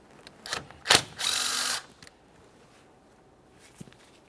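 A 10mm wrench loosens the battery terminal mounting bolt on a 2014-2019 Toyota Corolla: a few sharp metallic clicks, then a brief half-second ratcheting whir close up, followed by near silence.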